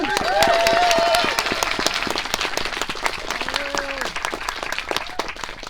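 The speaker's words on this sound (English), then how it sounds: "you should clap for everyone individually" Audience applause for a film editor at a Q&A for tick, tick...BOOM!, dense clapping from a crowd with a few whoops, loud at first and then thinning out slightly.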